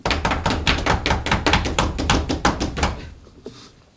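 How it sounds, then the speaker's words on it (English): A door is knocked on loudly and close: a rapid, steady run of about fifteen heavy raps that then fades out, in a staged performance of Macbeth. "Here's a knocking indeed."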